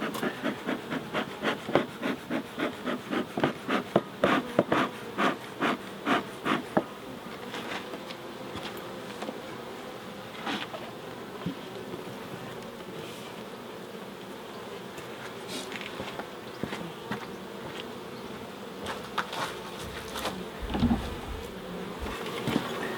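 Honey bees buzz continuously at a hive during a beekeeping check, a close, droning hum joined by a run of sharp taps and knocks early on, with no voices.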